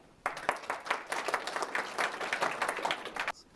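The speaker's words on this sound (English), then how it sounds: "All right, round of applause for Ronald." A short burst of clapping from an invention convention audience for a student presenting a multi-use robotic platform, brisk and fairly close, ending abruptly after a few seconds.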